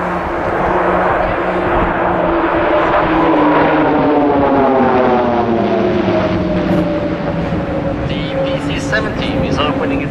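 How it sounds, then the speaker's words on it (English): Swiss Air Force PC-7 aerobatic team propeller aircraft flying a formation display at the Royal International Air Tattoo, Fairford; a loud, steady engine drone with gliding tones as the planes pass, continuous and close. "the exceptional PC-7 team, the official aerobatic team of the Swiss Air Force"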